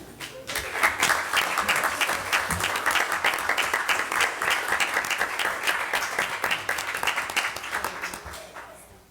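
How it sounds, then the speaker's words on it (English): Sustained audience applause at a school board meeting honoring newly tenured teachers, dense steady clapping from a large crowd that swells quickly and holds for about nine seconds before tapering off at the end. "please stand up for one more round of applause"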